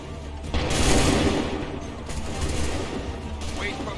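A musket volley fired on command in Assassin's Creed 3 bursts out as a loud, ragged crash, then fades into battlefield rumble and scattered shots, with a second weaker volley later and voices faintly under it.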